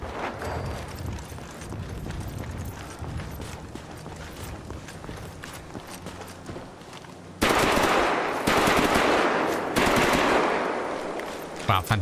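Rapid automatic gunfire from the S.T.A.L.K.E.R. Anomaly game, modded with a Fallout overhaul, crackles densely throughout and turns louder and harsher bursts near the end, with brief speech mixed in.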